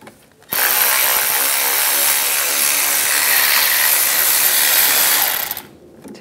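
A ratchet loosens the CV axle bolts on a 2010-2014 Volkswagen GTI in one long, rapid, continuous burst of clicking that lasts about five seconds. It is loud and close, with brief quiet before and after.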